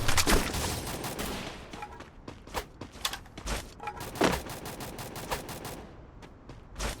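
Bursts of powerful gunfire in the Free Fire battle game, rapid volleys of sharp cracks coming in irregular clusters, loud and close with short gaps between them.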